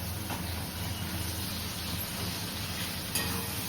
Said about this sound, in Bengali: টমেটোটা একটু ভাজা ভাজা হয়ে যাবে